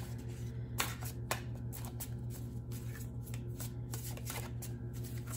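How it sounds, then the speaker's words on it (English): Tarot cards shuffled by hand in a steady run of soft riffling and slapping, close and fairly quiet over a constant low background hum, with no talking. "That's where I just shuffle the cards and see what falls out."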